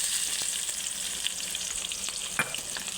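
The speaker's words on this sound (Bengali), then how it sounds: "ভালো করে লাল লাল করে ভেজে নেব।" Chilli, onion and bay leaf frying in a pan, a steady close sizzle with occasional stirring scrapes and pops, no talking.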